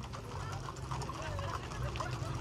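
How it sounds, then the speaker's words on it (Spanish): Horses clip-clopping along a cowboy trail ride in Sonora, Mexico, their hooves striking in an uneven, overlapping rhythm at a moderate distance while people talk over them. "Esto es una cabalgata."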